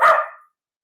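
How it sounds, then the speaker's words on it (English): A dog indoors gives a single sharp bark that fades out quickly, followed by silence. "my dog is barking"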